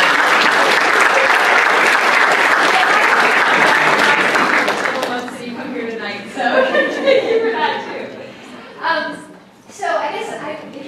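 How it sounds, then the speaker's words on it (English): Audience at a forum on the Iran nuclear deal gives a sustained round of applause that fills the first five seconds, then thins out into scattered claps while voices and murmurs come through. "deserves a round of applause."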